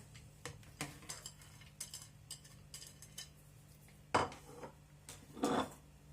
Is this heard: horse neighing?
no